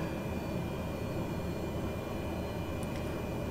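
A turboprop engine runs at idle with the parking brake set, giving a steady, even broadband drone that stays unchanged throughout, close and moderately loud with no voices.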